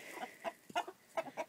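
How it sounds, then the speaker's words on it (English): A rooster clucking softly in short, throaty bursts, several quick clucks close by with no talking. "that's our rooster."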